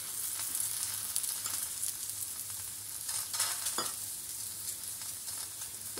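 Bottle gourd paratha frying in a little oil on a pan, a steady close sizzle with faint crackles and occasional light scraping, no voices.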